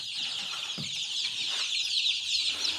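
A crowd of 22-day-old chicks raised in home incubation cheeps continuously in a high, busy chorus close by, with a few soft low knocks and rustles beneath.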